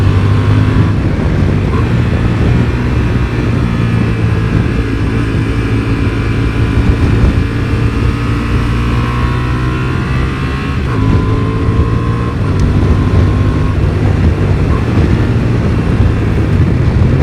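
A Honda Transalp 750 motorcycle's engine running steadily while riding, with a continuous close rumble and wind noise and a few gentle shifts in pitch as the revs rise and fall.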